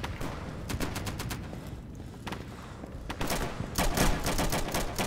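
An MG42 machine gun fires in the World War II shooter Day of Infamy during a D-Day beach assault, rapid bursts of automatic fire with gaps between, moderately distant amid battle noise.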